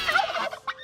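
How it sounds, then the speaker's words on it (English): A turkey gobbles once, a close, rapid warbling rattle followed by a short trailing call, with no talk over it. "This is a turkey."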